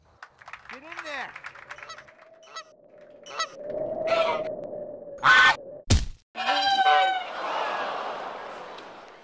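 A goose honks several times on a golf course at a tournament, loud, nasal calls from close by, mixed with a sharp crack and bursts of crowd noise and cheering.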